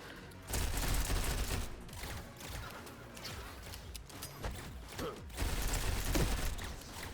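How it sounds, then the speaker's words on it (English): A grenade detonates in the sci-fi roguelike shooter Galactic Vault, a loud low booming blast amid rattling mechanical gunfire and clanks, with several heavy bursts spread over the fight. "So that was a good grenade right there."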